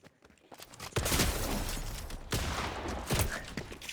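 Pump shotgun fire in a video game, several sharp, loud blasts with crackling tails spaced about a second apart, mixed with game noise.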